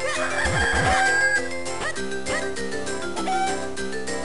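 Chickens clucking and crowing in the video game Zelda The Minish Cap on the GBA, chirpy synthesized fowl calls over steady game music, with no talk.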